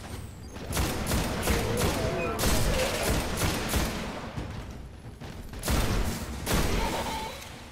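Repeated bursts of gunfire in the video game Destiny, loud and close, with rapid volleys and short pauses between them.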